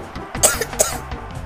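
A few short coughs ring out close by, two sharp bursts a fraction of a second apart followed by softer throat sounds.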